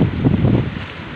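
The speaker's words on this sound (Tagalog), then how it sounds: "Tapos napakaalon pa mga kasibad." Rough sea and strong wind around a small fishing boat, a brief loud burst of buffeting wind noise with a surging wash of water, no voices.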